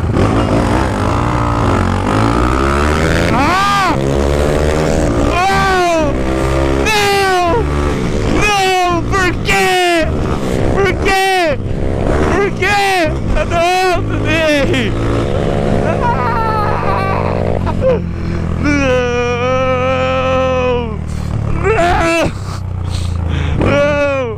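Motorcycles, one a Honda Hornet, pull away hard from a traffic light, engines rising in pitch through repeated gear changes, loud and close, with a second bike revving alongside over a long continuous run.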